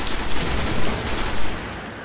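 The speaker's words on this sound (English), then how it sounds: "Who is shooting there?" Dense, continuous gunfire in the Destiny video game: a loud, unbroken wall of rapid shots and explosions filling the whole moment, fading slightly toward the end.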